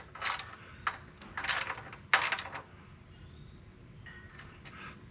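A wrench tightens a shouldered bolt on a John Deere Z910 zero-turn mower, giving several short, sharp ratcheting bursts of clicks with pauses between, fairly quiet and close, followed by faint fiddling sounds.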